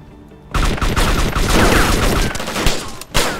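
Dense bursts of automatic gunfire in the survival game DayZ, loud and close, with rapid overlapping shots that fill the clip after a quiet start and a brief break near the end.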